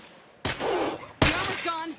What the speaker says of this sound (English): I created a little bit of noise with a gunshot to draw out the feral